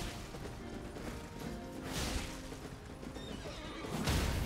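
Horse neighing in the video game Elden Ring, a quiet whinny heard among faint game effects, with a brief rumbling thump near the end.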